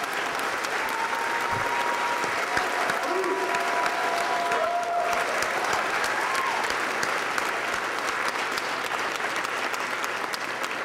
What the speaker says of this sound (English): So please give a round of applause to Jazz Hayden.